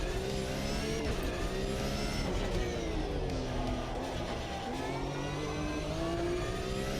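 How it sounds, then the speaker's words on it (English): Porsche GT3 engine in a racing sim, a steady high-pitched howl rising and falling with gear changes and throttle, revving continuously throughout with no talk over it. "we're going to take a little drive around the Porsche GT3"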